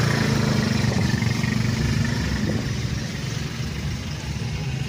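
A small 200cc vehicle engine runs steadily at idle, a close, continuous low rumble with a slight dip in level partway through, heard alone.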